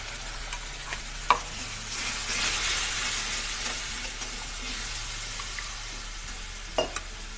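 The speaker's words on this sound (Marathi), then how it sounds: "आता या फोडणीमध्ये जे आपण खसखस, लसूण बारीक केलाय ते टाकून घ्यायचे सगळं।" Chopped poppy seeds and garlic added to a hot tempering, a soft steady sizzle swelling briefly then settling, with a few sharp utensil taps against the pan.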